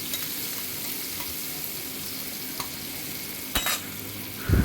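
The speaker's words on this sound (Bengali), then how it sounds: "এবার এটাকে আমি একটু ভালো করে একটু ভেজে নেব।" Chopped onion frying in a pan for a mixed vegetable dish with bhetki fish head, a steady moderate sizzle with a few clinks of stirring and a louder scrape at the end.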